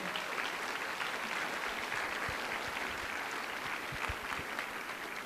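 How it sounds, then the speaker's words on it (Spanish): A church congregation claps together in sustained, even applause that fills the room at moderate distance, with no speech over it. "Denle un aplauso fuerte al Señor."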